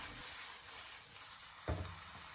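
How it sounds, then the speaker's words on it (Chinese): Onion and green chili tossed in a wok over high heat give a soft, faint sizzle, broken by one sharp clatter of the wok toward the end, with no talking. "我们继续的开大火给它快速的翻炒几下，将洋葱还有青辣椒给它翻炒断生"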